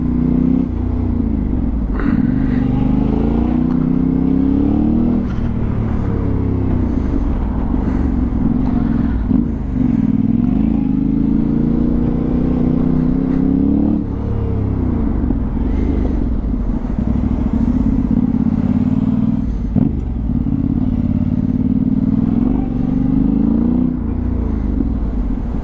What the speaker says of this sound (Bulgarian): има някакви коли интересни тук в трафика